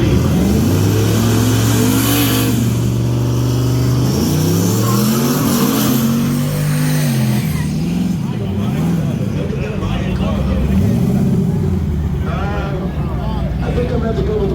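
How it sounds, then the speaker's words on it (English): A turbocharged race car engine at a grudge-racing festival revs up and down in loud, sweeping pitch changes, close by with a rising spool whine, and voices talk over it. "That turbo spooling, that's what we switch it to."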